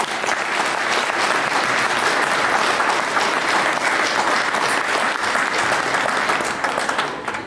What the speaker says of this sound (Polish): Proszę Państwa, proszę o brawa.